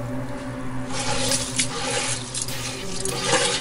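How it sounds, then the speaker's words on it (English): Running water rinses lentils in a kitchen for dal-chawal, a steady close splashing flow that grows fuller after the first second, with no voices. "Next, we want to rinse our lentils."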